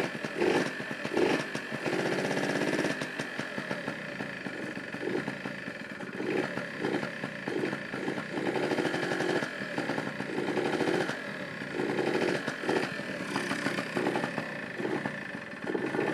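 A Yamaha Towny motorcycle engine idles steadily and close by, with a continuous, uneven mechanical putter that runs throughout without speech.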